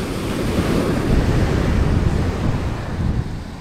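Ocean waves roll and wash onto the shore along the coast at Casiguran, Aurora, a continuous broad roar of surf mixed with wind buffeting the microphone.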